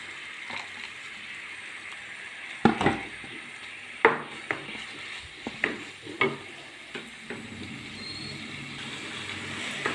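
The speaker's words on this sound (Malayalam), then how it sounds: "നല്ലോണം ഇളക്കി കൊടുക്കുക" Grated coconut is stirred into jaggery in a frying pan, a faint sizzle underneath repeated scraping knocks of a spoon against the pan at an irregular pace, close and alone.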